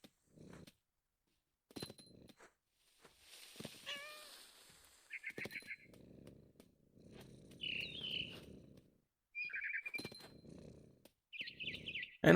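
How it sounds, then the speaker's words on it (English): A cat purrs in the video game What Remains of Edith Finch, soft rumbling bursts heard close and faint, interspersed with brief high bird chirps and other quiet game sounds. "Cat sound feral as shit too."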